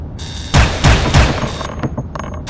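Gunfire at targets in the Soldier of Fortune video game: three loud, closely spaced bursts of shots in a steady rhythm, followed by a few fainter single shots and clicks.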